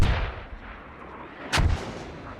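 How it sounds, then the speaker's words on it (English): Mortar fire in the video game Squad: a loud booming impact at the start fades into a rumble, then a second sharp blast about halfway through rolls off into distant echo. "keep the aggression of mortars now going down on that hub here"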